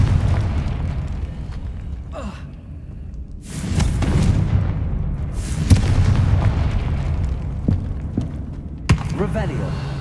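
Confringo fire spell explosions in the Hogwarts Legacy PC game: loud booming blasts with a heavy rumbling tail, one big burst midway and another sharp crack near the end, over constant low game ambience.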